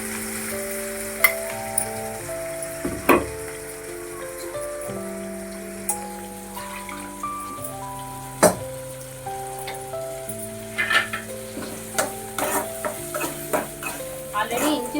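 Ground paste frying with sautéed onions for a Tamil mutton curry, a continuous close sizzle broken by irregular scraping and clanking strokes of a spoon stirring in the pan, with a tonal hum underneath and no speech.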